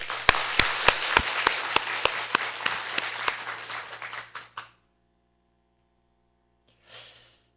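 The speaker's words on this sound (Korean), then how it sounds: "우리 하나님께 한번 영광의 박수 한번 하십시다." A church congregation gives a burst of applause in a broad wash of clapping, with a few sharp louder claps standing out. It fades out after about four and a half seconds and leaves silence, then a brief breath.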